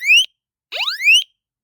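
A Nittan residential fire alarm sounds two loud electronic sweep tones, each rising in pitch and separated by a short silence; the second starts with a brief cluster of overlapping tones.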